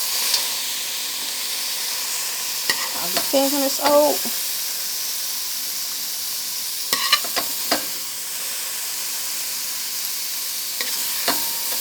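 Steady sizzling hiss of frying in a warm pot used for minced beef, with a few scraping stirs and spoon clatters standing out midway and near the end, and a faint voice in the background.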